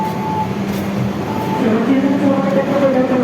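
Trains pass through Wates station, the Madiun Jaya and Pasundan services, with a steady low rumble and rolling rail noise beneath a voice speaking nearby.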